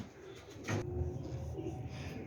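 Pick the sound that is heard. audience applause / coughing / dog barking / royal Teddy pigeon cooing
royal Teddy pigeon cooing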